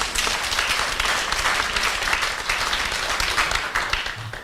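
An audience claps steadily at a morning gathering, a dense, sustained patter of many hands close by, holding at an even level with no voices over it.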